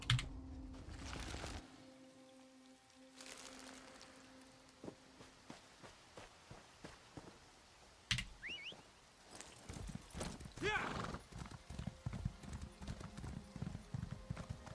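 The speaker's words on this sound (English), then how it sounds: "Thank goodness for a trusty horse." Rhythmic clip-clop of horse hooves trotting at a steady pace in the video game Elder Scrolls Online, close by, with a few quieter clicks and rustles earlier in the clip.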